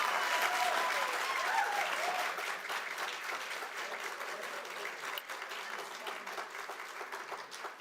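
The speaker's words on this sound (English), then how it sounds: "I'm going to ask that we not burst into applause for each and every speaker" Audience applause at a county board of supervisors meeting, a broad, steady roar of many hands clapping in a large room with a few voices mixed in, gradually easing off.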